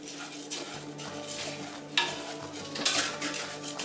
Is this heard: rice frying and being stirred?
yes